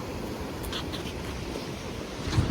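Sea waves along the shore at Diu make a steady, soft wash of surf, mixed with wind rumble on the microphone. It carries on without a break and stays fairly distant.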